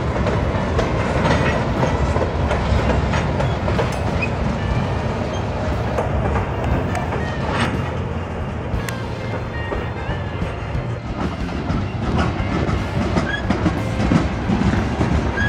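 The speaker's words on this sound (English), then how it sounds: "they got a little N scale train running" Small N scale model train running on its track outdoors, a steady rumbling clatter with rhythmic clicking that holds at an even level throughout, fairly loud and close.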